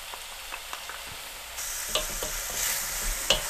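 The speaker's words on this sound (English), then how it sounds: "while this is frying away" Steady sizzling of pork belly frying in a pan for babi kecap, with crackles and occasional stirring clatters; the sizzle grows louder about halfway through. No voices.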